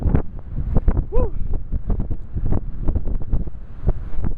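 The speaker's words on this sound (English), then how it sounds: "It's too windy." Strong wind on the coast at Strandhill buffets the microphone in loud, irregular low gusts and thumps throughout, with a brief voice sound partway through.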